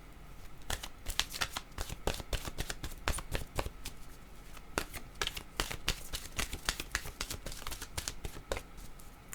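Oracle cards shuffled continuously, a dense, close riffle of rapid papery clicks and flutters running steadily for several seconds with no talk.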